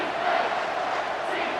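Home crowd at a college football game roaring as the defense faces third down, a dense, steady wash of cheering and noise, fairly loud throughout.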